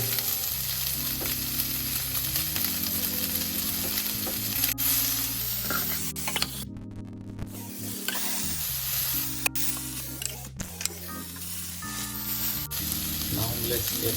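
Garlic and ginger paste frying in a hot pan for a Naga smoked pork dish, a loud, continuous close sizzle with stirring scrapes and occasional clicks throughout.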